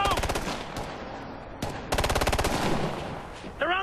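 Heavy automatic gunfire in a Ghost Recon: Future Soldier firefight, dense rapid bursts of rifle and machine-gun fire rattling loudly almost without pause, with short gaps and a shouted voice near the end.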